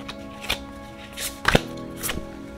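Tarot cards being shuffled by hand, giving a few brief papery riffles and taps spread over a couple of seconds, close and fairly quiet with no talking.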